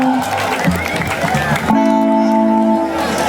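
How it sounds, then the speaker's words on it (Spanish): Party guests at a baptism celebration applauding the godfather of the baptized children: a loud, brief burst of clapping and crowd noise under someone speaking over a microphone, giving way to a sustained musical tone. "Un aplauso para el padrino de los niños bautizados"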